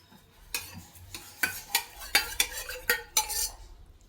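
Halwa mixture being stirred in a pan with a metal utensil, a run of sharp repeated scraping clinks in uneven rhythm, close and fairly quiet over a faint sizzle, with no voices.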